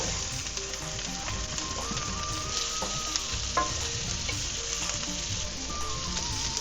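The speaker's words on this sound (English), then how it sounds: "now I'm gonna put all of our aromatics in" Onion, garlic and ginger sizzle and fry steadily in a hot pan, a continuous dense crackle with occasional brief pops and scrapes, close and fairly loud with no talking.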